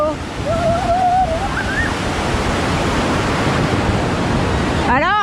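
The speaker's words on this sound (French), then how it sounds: "Mais c'est déjà une belle cascade." Waterfall in the rain in Venezuela, a steady loud roar of rushing water close by, with a voice speaking briefly over it at the start and again at the end.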